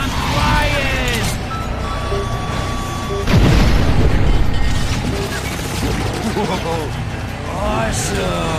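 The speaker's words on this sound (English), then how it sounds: "Missile launcher acquired." A missile launcher fires and explodes in the Cars 2 video game on a runway level: a loud booming blast bursts out midway over constant engine rumble and game noise, with a voice talking through parts of it.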